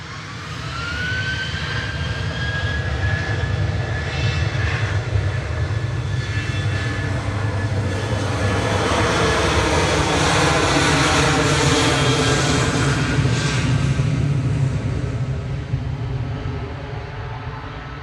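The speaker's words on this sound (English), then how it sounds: "Jet 737-800 JZHC lined up and ready to go now, rolling to Salzburg with flight 889." A Jet2 Boeing 737-800 roars down the runway on its takeoff roll at Manchester Airport, a loud, sustained jet engine rumble with a rising whine that swells and then slowly fades as the plane climbs away.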